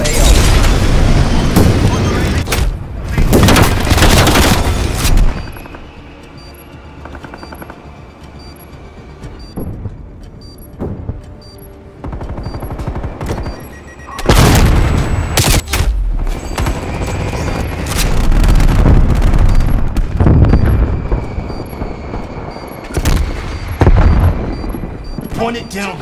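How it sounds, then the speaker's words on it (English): Gunfire and explosions from a strafing run in Call of Duty: Black Ops Cold War, with loud booming blasts and rattling bursts in repeated waves, mixed with game radio voices and chatter. "Hostile strafe run inbound."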